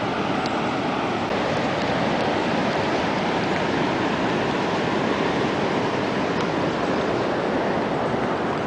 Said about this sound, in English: Right, there's the weir.